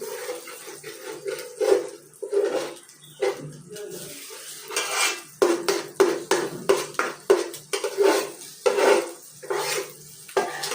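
Leftover chicken frying and reheating in a pan: a soft sizzle under busy, rhythmic clanks and scrapes of a metal utensil against cookware, loud and close, continuing in bursts throughout.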